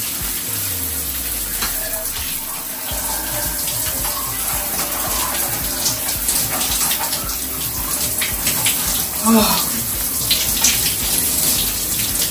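Steady running water from a tap, a continuous close splashing hiss with faint shifting spatters as someone washes their face at a sink.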